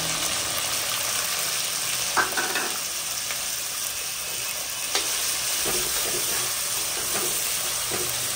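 Sliced onions sizzling steadily in reused oil that earlier fried jackfruit, a continuous close frying hiss broken by a few louder spatters and stirring scrapes, with no talking.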